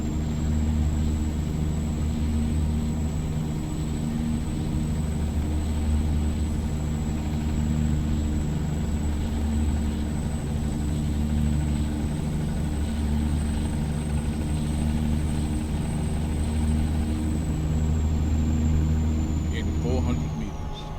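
A T600 truck engine in a driving simulation idles steadily around 1500 RPM, giving a continuous, even drone with a constant high whine layered on top for the whole stretch.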